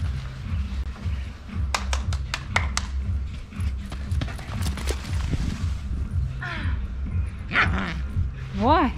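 A dog out on a leash at Dzhemete beach in Anapa makes short snapping yelps and low growls amid a busy outdoor mix of hoof-like clatter and background voices.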